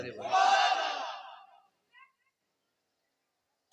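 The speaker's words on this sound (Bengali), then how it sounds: "ये হলো সুন্নিদের তাকবীর।" A crowd at a Sunni religious gathering in Bengal loudly chants the takbir in unison, a single swelling shout that rises, holds and fades over about a second and a half before a brief faint echo and silence.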